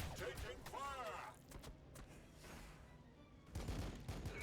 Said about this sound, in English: Now they get to fire at me.